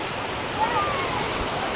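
Gentle sea waves wash in at a calm beach in Pangasinan on a quiet morning, a soft continuous surf hiss with a faint distant voice or bird call above it.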